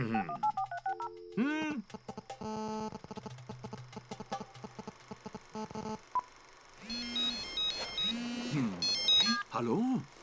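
Telephone keypad tones ring out in quick bursts as a number is dialed, mixed with a playful melody and chiming ringtone-like beeps in a cartoon setting.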